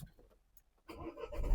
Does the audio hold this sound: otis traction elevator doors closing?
no